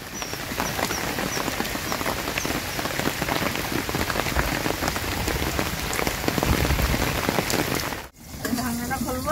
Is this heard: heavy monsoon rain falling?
yes